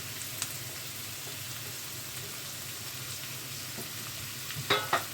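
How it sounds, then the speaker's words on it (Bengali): Ginger and tomato fry together in a pan for dhaba-style aloo dum, giving a steady even sizzle with a few faint stirring taps and a louder clatter of stirring near the end. "তার সঙ্গে আদা, টমেটো সব একসঙ্গে দিয়ে দিলাম। এটাকে একটু ভাজা ভাজা করব।"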